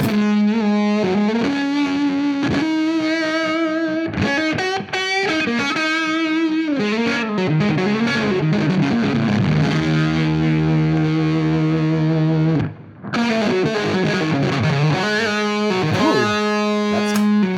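Electric guitar through a Gypsy Fuzz pedal, woolly sustained chords and single-note lines, loud and continuous with a brief break near the end.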